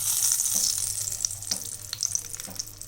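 Beaten egg hits a hot pan for an omelette in a Tamil egg kulambu recipe, giving a bright, steady sizzle and frying crackle with scattered spatters throughout.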